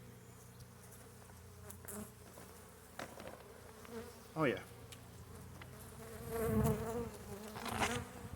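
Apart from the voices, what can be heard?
honey bee cluster buzzing in hive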